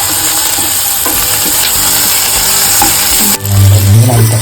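Chopped carrots and other vegetables sautéing in a pan for egg roll filling, a steady close sizzle with stirring scrapes, a louder burst of frying near the end, no talking.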